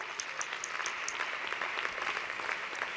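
Audience applause at a music awards ceremony in Monzón, a moderately faint, continuous patter of many hands clapping with a few brighter claps poking through.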